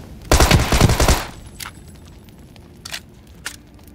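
A close, loud burst of rapid SMG fire in the battle royale game PUBG, lasting about a second, followed by quieter ambience with a couple of faint thuds and clicks.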